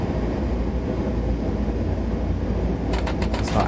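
A DB class 103 electric locomotive hauls an IC train from Dortmund to Oberstdorf in Train Sim World, giving a steady, close rolling rumble with brief rattling clatter near the end.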